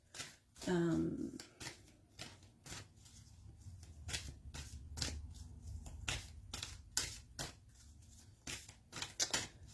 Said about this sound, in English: Just shuffling the cards for you.